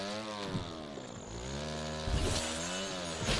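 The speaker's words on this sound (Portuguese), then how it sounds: "Essa moto aqui é poderosa demais" Motorcycle engine in an Android mobile racing game, a synthetic revving whine that rises and falls in pitch, steady and continuous, with a sharper surge near the end and no speech.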